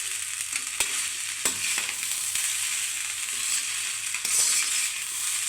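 Fried rice stir-fried with soy sauce in a pan sizzles steadily and close, with scraping and clinking stirs from the spatula breaking through at irregular moments.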